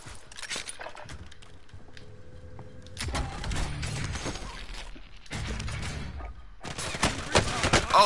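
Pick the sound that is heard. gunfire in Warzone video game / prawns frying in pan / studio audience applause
gunfire in Warzone video game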